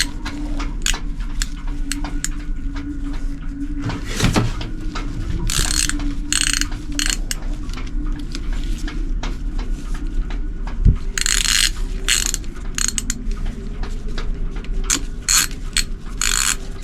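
A wrench tightening a bolt on a genset during impeller inspection, giving repeated close ratcheting clicks in short bursts amid light mechanical handling.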